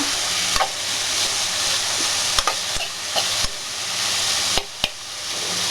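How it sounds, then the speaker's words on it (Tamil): Capsicum, beans, curry leaves and coriander sautéing in a pan, a loud continuous sizzle broken by repeated sharp spatula scrapes and knocks. "குடமிளகாய், பீன்ஸு, கொஞ்சம் கருவேப்பிலை, கொத்தமல்லி போட்டுட்டு நல்லா வதக்குங்க"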